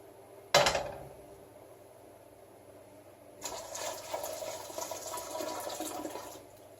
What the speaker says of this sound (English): what I need to get in now is 3 quarts of water into my pressure canner